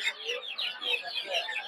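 Broiler chicks at a busy poultry market cheep continuously in overlapping high peeps, close and moderately loud, forming a dense chorus throughout.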